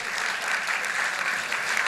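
A gala ballroom audience applauds, dense even clapping from many hands held steady and fairly near, with no talk over it.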